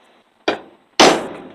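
Two sharp metallic hammer strikes on a steel punch set against a horseshoe nail at a forge, the first lighter and the second louder with a ringing decay, close and with no talking.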